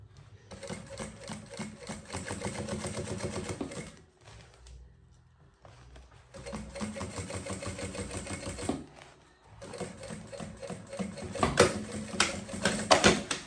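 A sewing machine stitches a banana bag in rapid mechanical bursts, running for a few seconds, pausing, then starting again, close and fairly quiet with no talking.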